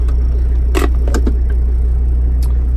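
A 1991 Toyota Land Cruiser PZJ77 idles with a steady low engine rumble, and a few light clicks and knocks sound as it gets ready to drive off.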